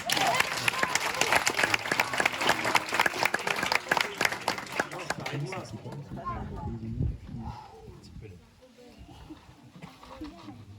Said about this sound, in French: On l'applaudit, on l'encourage.